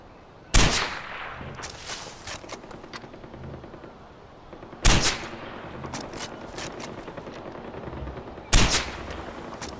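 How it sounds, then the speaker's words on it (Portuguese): Three sharp, loud gunshot bursts in the shooter video game Far Cry 4, spaced a few seconds apart, each a hard crack over a low ambient game background. "Dando uns tiros aqui pra ver se explode,"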